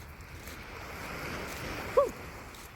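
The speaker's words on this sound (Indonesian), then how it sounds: "Deburan airnya." Ocean waves washing onto a beach on Tung Ping Chau Island: a soft, steady hiss of surf with wind noise throughout and a brief higher squeak near the end.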